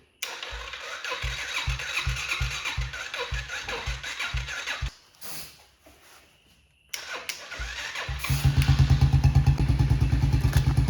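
A Yamaha TTR90 dirt bike engine is cranked over several times in pulsing bursts, then it catches and settles into a loud, steady, close-up idle with a rapid throbbing beat.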